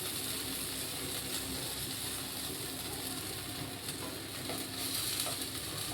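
A chapri flatbread frying in a pan with a little oil drizzled over the top makes a continuous, moderate sizzle and hiss with small crackles, even and unbroken throughout.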